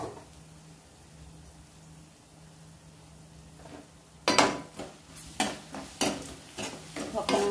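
Spices such as cumin and garlic frying in hot oil in a pan: a quiet low hum at first, then loud bursts of sizzling and scraping stirring strokes in an irregular rhythm, close up.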